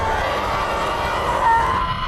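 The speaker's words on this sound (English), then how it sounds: "a mutated bear that screams with the voice of its last victim." A mutated bear from the film Annihilation lets out a sustained, harsh, human-like scream, loud and continuous for about two seconds with no pauses.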